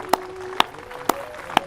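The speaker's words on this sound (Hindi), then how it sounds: "ये तालियां मीनाक्षी के लिए और साथ ही साथ उन करोड़ों दर्शकों के लिए" A studio audience on a yoga television show claps. Four crisp, evenly spaced claps ring out about half a second apart over a faint steady tone.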